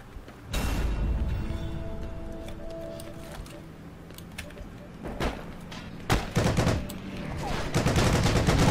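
Gunfire in the World War II shooter Heroes and Generals, loud bursts and single shots crackling repeatedly throughout, with rapid fusillades near the start and toward the end, layered over ambient battle noise.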